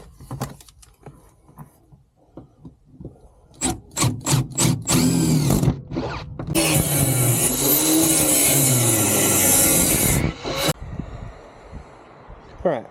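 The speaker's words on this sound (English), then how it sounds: "we're going to drill a new hole in this rail" A power drill whirs continuously for several seconds boring a hole in a steel seat rail, after a series of sharp clicks and knocks, loud and close, with a quieter stretch before and after.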